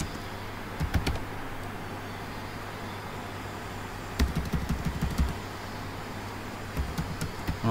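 Keys on a computer keyboard click in short, faint bursts of rapid taps separated by pauses, heard alone over a low steady hum.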